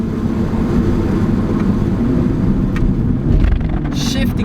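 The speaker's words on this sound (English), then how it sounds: "Shifting down, braking hard, and then taking all the grip." A 2020 Mini Cooper JCW downshifts and brakes hard on a mountain pass, its engine and road noise a loud, continuous roar with a brief surge near the end.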